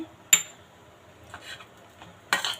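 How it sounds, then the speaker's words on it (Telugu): Cashews and raisins dropped into hot ghee in a pan give a few brief sizzling bursts with metallic clinks of the pan and spoon, separated by quiet gaps; no one talks. "ఇప్పుడు ఇందులో మనకి జీడిపప్పు అలాగే కిస్మిస్ వేసుకుందాము."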